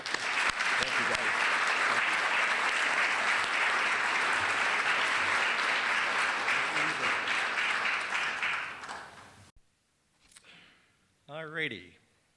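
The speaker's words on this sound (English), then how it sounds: "please help me say thank you to these 4 board members and with a round of applause" An audience gives sustained applause for four board members at an annual meeting, dense steady clapping for several seconds that fades out, followed by a short moment of voices.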